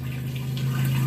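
An RV water pump runs in a Mountain Aire motorhome, a steady close hum with a strong low drone that holds evenly through the whole short stretch, with no voices.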